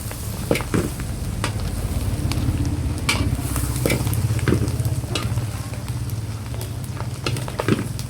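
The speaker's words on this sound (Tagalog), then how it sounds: "Kailangan haluin yung gawa ni Itay." Dinuguan, a pork blood stew, being stirred in a large pot, with a continuous simmering sizzle and frequent sharp scrapes and knocks of the ladle against the metal, loud and close, with no voices.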